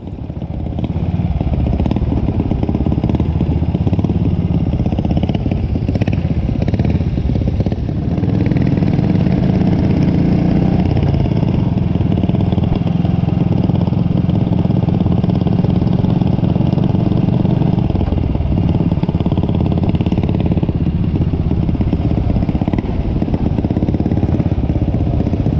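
Indian Velo 500 single-cylinder motorcycle engine running after warm-up, a loud, close, steady thumping idle with a mechanical clatter that swells slightly at times, no speech over it.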